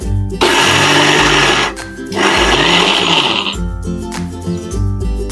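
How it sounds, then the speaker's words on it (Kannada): A mixer grinder coarsely grinding soaked chana dal, a loud close motor whir running in two long bursts with a short pause between, then slowing down at the end. "ಈಗ ನೆನೆಸಿರೋಂಥ ಕಡಲೆಬೇಳೆನ ತೆರೆಯಾಗಿ ಗ್ರೈಂಡ್ ಮಾಡ್ಕೊಳ್ಳೋಣಂತೆ"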